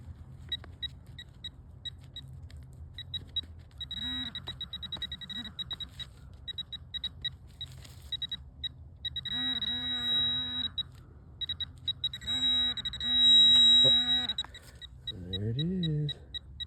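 A metal detector emits repeated electronic beeps and warbling tones, in bursts of varying length, with a low hum and faint voices underneath.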